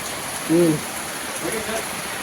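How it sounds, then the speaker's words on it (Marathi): Rain falls on a village backyard garden with papaya trees and colocasia plants, making a faint, even hiss throughout, with one brief vocal sound near the start. "तर बघा सुंदर असा पाऊस लागलेलो"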